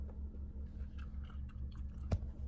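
Close, wet chewing of a burger, with steady rhythmic mouth sounds repeating over a couple of seconds and a sharper bite or crunch near the end, heard alone without talk.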